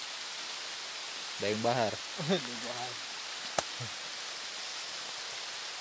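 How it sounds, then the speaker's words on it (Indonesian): Steady rain falls in an oil palm forest plantation, a constant close hiss of drops filling the scene while someone speaks briefly over it and a sharp knock sounds once. "Pas sampai spot malah hujan."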